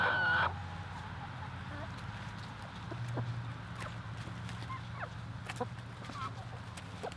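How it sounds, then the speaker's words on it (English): Chickens feed outdoors on invasive weeds, with soft clucks and scattered pecking and rustling under a steady low background hum, and a brief louder burst at the start. "The chickens are loving the stuff. I mean, they're just shredding it."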